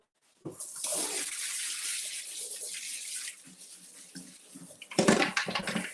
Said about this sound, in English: get our workspace clear, and rinse this out